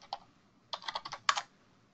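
Typing an email address and password on a computer keyboard: a quiet, close single keystroke, then two short clustered runs of clicks.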